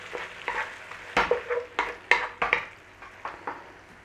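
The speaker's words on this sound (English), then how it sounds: "Stir through." Beef and mushroom black bean sauce is stirred through in a pan with the flame off, giving a run of close, irregular utensil scrapes and clatters over a faint sizzle, with no talking.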